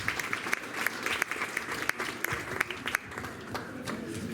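Audience applause at a school certificate ceremony, steady dense clapping from a crowd at moderate distance, continuous throughout with no speech over it.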